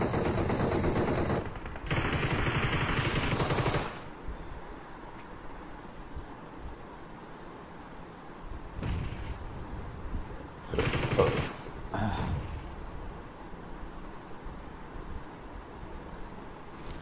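Gunshots in PUBG on the Erangel map, loud bursts of automatic fire early on, then quieter scattered shots later over a steady wind-like background hiss.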